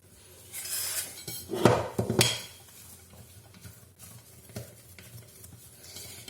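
Bread dough being lifted and scraped out of a mixing bowl, with a few soft sticky pulls, scrapes and knocks against the bowl, close and quiet, clustered near the start then trailing off.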